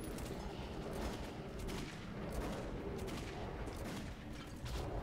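Dense, continuous gunfire from the first-person shooter Metro 2033: overlapping shots and bursts form a loud, steady barrage that fills the whole stretch without pause.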